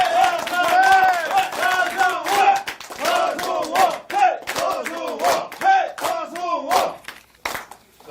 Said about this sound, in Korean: 서승우 예비후보 후보자에게 다시 한번 큰 박수 부탁드리겠습니다.